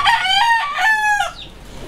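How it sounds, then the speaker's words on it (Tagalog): A farmyard rooster crows loudly and close by in two long drawn-out calls. Chickens cluck around it, with no talk. "Tapos yun yung mga chicken natin guys."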